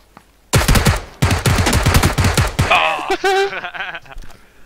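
Loud bursts of UMP submachine gun fire in PUBG crackle in quick succession for about two seconds, followed by a squeaky, wavering synthetic tone and fading noise.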